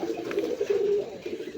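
Close, soft cooing from Satchila pigeons, a steady low murmuring call lasting a moment.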